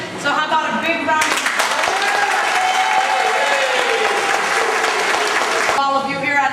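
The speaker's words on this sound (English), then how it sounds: "So how about a big round of" An audience applauds culinary students from Taylor Culinary School who presented cakes and a luncheon. Loud, dense clapping breaks out after a moment and holds steady, then cuts off near the end, with a voice speaking around it.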